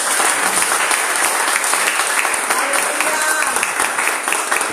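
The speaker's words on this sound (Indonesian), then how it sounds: "kita tepuk tangan ke Tuhan" A church congregation claps together during worship, continuous loud dense hand clapping with voices faintly mixed in.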